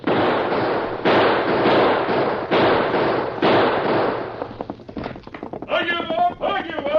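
Gunfire in a Lone Ranger radio drama shootout, a run of loud sharp bangs in irregular bursts, followed by a horse whinnying and brief voices near the end.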